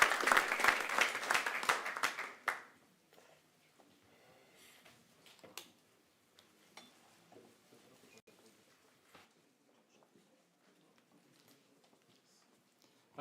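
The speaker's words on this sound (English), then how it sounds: "So huge applause for Łukasz," Audience applause for a speaker at a Meet.js Kraków developer meetup, a burst of clapping that fades after about two seconds, leaving a quiet room with scattered faint rustles.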